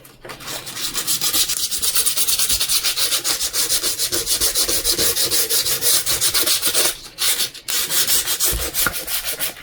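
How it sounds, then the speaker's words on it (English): Steady abrasive rubbing of sandpaper worked around the inside edges of a police-themed resin table, loud and continuous with brief pauses near the end, no voices. "I'm going to sand around inside these edges just to give it a place for it to grab."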